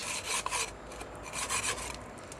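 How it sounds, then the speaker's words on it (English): A wooden dowel scraping hardened cement out of the inside of a PVC pipe, producing quick rasping strokes in a rough back-and-forth rhythm, close and fairly quiet. "So the way I do that is I just take a dowel and I scrape it,"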